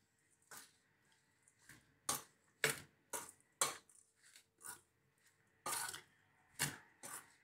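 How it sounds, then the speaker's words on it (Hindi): Green coriander being mixed into a grated radish paratha filling, a run of short, close scraping and clinking strokes in an uneven rhythm, separated by quiet gaps. "और ये हम हरा धनिया डाल देंगे और इसको मिक्स कर लेंगे।"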